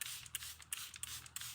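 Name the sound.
spraying water onto a silk-covered canvas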